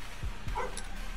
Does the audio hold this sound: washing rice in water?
no